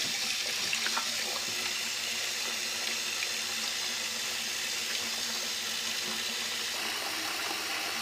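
Rice being washed and stirred by hand in water to rinse out the starch, heard as a steady running-water wash with soft sloshing, moderately quiet and continuous throughout, with no voices.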